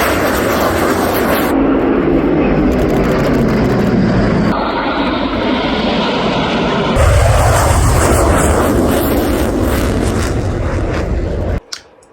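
A military aircraft flies overhead with a loud, sustained jet engine roar that shifts in tone as it passes. The sound ends in a sharp cutoff, and no one speaks.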